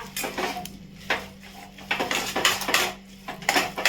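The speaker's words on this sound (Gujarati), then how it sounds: "આવી રીતે એડ કરી અને હલાવી દઈશ" A metal spoon scrapes and clinks against a pot while stirring yogurt into cooked khichdi, giving a series of irregular clattering knocks over a steady low background hum.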